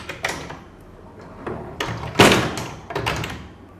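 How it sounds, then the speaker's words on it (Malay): A DIY kitchen cabinet door with a wire basket rail is handled nearby, giving a series of knocks, light taps and one louder thud against a quiet room, with no talking. "Ni pintu untuk kabinet yang pertama"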